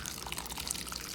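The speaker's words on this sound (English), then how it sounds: "we're just going to slowly pour this through the cheesecloth" Cheese curds and whey pour slowly through cheesecloth in a soft, steady watery trickle that stays close and quiet for a brief moment.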